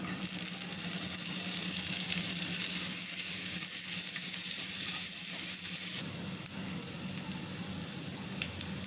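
Chopped ginger and garlic frying in oil in a pan with peanuts, a steady loud sizzle and hiss running throughout, dropping slightly in level partway through, with no talking.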